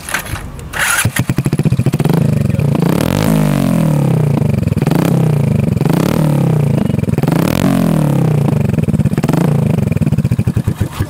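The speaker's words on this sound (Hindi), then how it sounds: "एग्जॉस्ट जो है वो तो अनएक्सपेक्टेड है, क्योंकि एससी प्रोजेक्ट का एग्जॉस्ट है यहाँ पे, और आपको मैं सुनाता हूँ इसकी आवाज़" A modified Hero Passion Pro motorcycle fitted with an SC Project exhaust starts up and revs hard several times, its loud, raspy exhaust note rising and falling in repeated close bursts with no talking.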